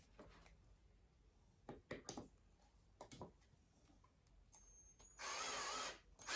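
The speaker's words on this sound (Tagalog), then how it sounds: "Just push in and drill." A power drill whirs in a short loud burst near the end while a corner shelf is being assembled, preceded by scattered clicks and taps of handling parts.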